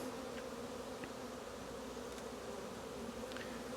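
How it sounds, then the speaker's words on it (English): Honeybees drone steadily inside an open hive during a Demaree split, a dense continuous hum close to the microphone with no pauses, as frames heavy with honey are inspected. "There seems actually to be more bees in here as well, which is great."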